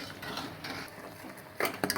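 A small spoon stirring boiling jaggery syrup in a pan for sweet seedai: soft scraping and swirling, then a few sharp metallic clinks of the spoon against the vessel near the end, close and alone.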